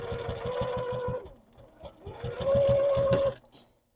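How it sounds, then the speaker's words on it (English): A sewing machine back stitches the beak seam of a stuffed goose made of fabric: two close, steady bursts of rapid needle clatter with a short pause between them, ending abruptly. "Back stitching again."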